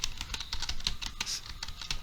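Rapid typing on a computer keyboard while entering a DISM command, a quick irregular run of close, crisp key clicks.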